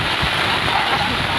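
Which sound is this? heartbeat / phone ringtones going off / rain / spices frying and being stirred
rain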